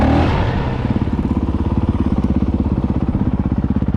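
A Honda CRF450L with a Yoshimura RS4 exhaust and Vortex ECU gives a loud, close, rapid rhythmic thumping at a low idle. It opens with a brief blip of throttle, then settles into an even, steady putter.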